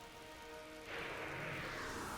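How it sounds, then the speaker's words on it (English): Rain in the Final Fantasy 12 video game starts up partway through, a steady broadband hiss of falling rain that swells in suddenly and holds, replacing a quieter tonal ambience. "And it's raining. It's raining indeed."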